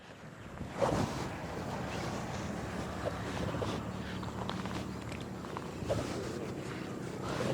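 Steady rushing water fills the scene, with wind buffeting the microphone and occasional splashes over a constant low roar.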